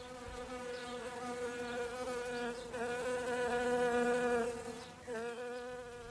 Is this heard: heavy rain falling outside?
no